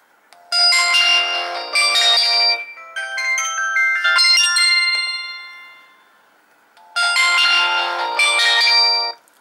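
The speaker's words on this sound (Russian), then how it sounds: "Но очень громкий звонок, очень даже." A Samsung GT-E1150i mobile phone plays a loud, bright electronic ringtone melody, repeating bursts of tones with a short pause before the pattern starts again, heard alone.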